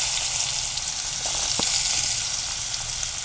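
Chopped onion hits hot oil in a pan and frizzles with a steady, even hiss, heard alone, broken once by a single sharp click midway.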